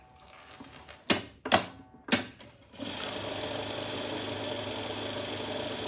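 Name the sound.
sewing machine quilting patchwork fabric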